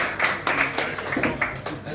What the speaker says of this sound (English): I would like another applause for the first comedian of the evening, for Esther.